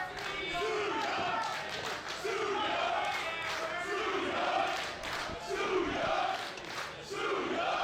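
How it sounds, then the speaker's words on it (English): Wrestling crowd at a Bourbon Street venue cheering and chanting for Su Yung during an AAW Women's Championship match, a loud, steady roar of voices with rhythmic swells and occasional thuds from the ring. "The crowd here at Bourbon Street firmly behind Su Yung."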